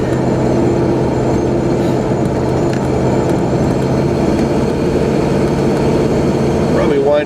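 Vehicle engine held at a steady low idle, then given a little gas, a close continuous rumble with a faint rise near the end.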